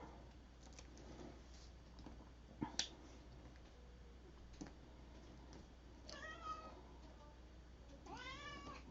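A cat meows twice, short and then drawn out, in a quiet room with a soft snap before.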